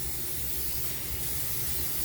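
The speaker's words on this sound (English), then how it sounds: "So I spray" Cooking spray hisses continuously from a can onto a baking pan for granola bars, a steady, close, loud aerosol spray lasting about two seconds without pause or voices.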